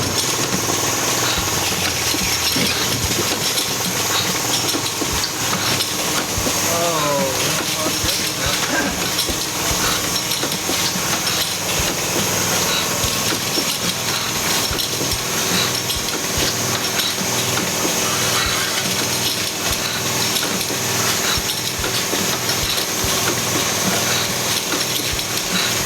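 Beer canning line machinery running steadily at the lid section of a brewery, a dense continuous industrial clatter and hiss filling the whole stretch at close range without letting up.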